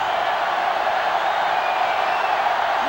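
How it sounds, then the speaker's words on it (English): A sellout stadium crowd at an LSU vs Arkansas college football game roars in a dense, loud, continuous wash of cheering with no breaks. "This sellout crowd is really making a difference now as these guys can't even call the play."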